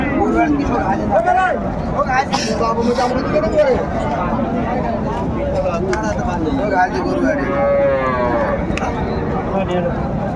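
Cows and calves moo at a cattle market in Raniganj, Dinajpur, over a noisy backdrop of people talking, with several drawn-out lowing calls mixed into the chatter.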